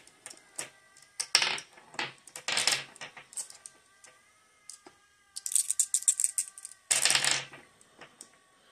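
Marbles clatter and rattle in irregular bursts during a lane shuffle in a marble race, with sharp clicks and short cascades separated by quiet gaps and no voices.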